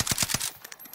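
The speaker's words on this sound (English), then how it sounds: "That is a bullet." Gunfire in a battle-royale video game with gas closing in: several rapid, loud shots in a burst at the start, then quieter scattered reports trailing off.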